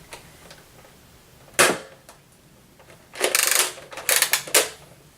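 Nerf Zombie Strike Scravenger dart blaster being primed and fired, with a sharp snapping click, then a burst of rapid plastic clacks and a few sharp pops close up, with no voices.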